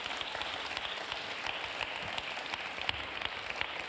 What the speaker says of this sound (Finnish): Amulle valtavat aplodit.